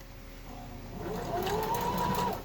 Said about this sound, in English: now we're going to stitch this down. I use a decorative stitch, but you can also use a regular straight stitch.